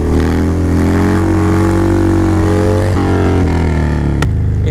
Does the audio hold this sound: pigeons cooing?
no